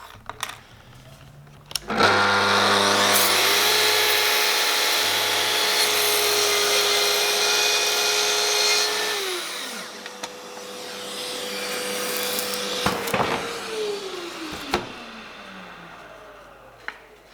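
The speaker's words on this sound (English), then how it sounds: "We just simply place our rail saw onto the workpiece" A rail saw cuts through a workpiece: its motor whines up sharply, holds a loud steady drone for several seconds, then winds down, followed by a quieter lingering hum, with no voices.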